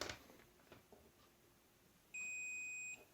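A multimeter continuity test on a small battery gives a steady electronic beep lasting under a second, clear and close over a quiet room after a brief rustle of handling the probes.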